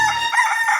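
A rooster crows once, close and loud, a short bright call that fills the whole brief moment.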